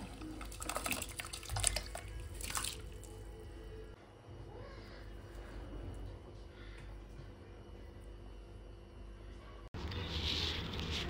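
Bhagar, barnyard millet, is rinsed in water by hand, with close sloshing, dripping and soft squishing, plus a brief clatter of a vessel near the start.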